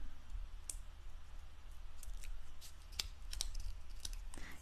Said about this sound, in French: Donc, on enlève les papiers.